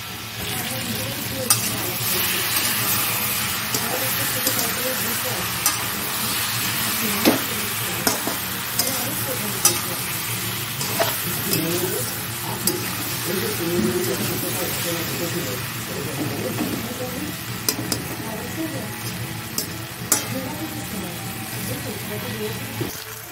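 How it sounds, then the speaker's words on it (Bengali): Food frying in a pan is stirred steadily, with a constant sizzle and repeated scraping strokes throughout, plus occasional louder clinks from the utensil; a voice talks intermittently over the cooking. "সুন্দর করে নেড়ে চেড়ে নেব"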